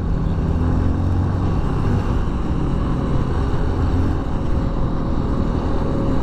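Honda CRF150L motorcycle engine held at top speed around 105 km/h, a loud, constant droning whine mixed with heavy wind roar, close and unbroken throughout.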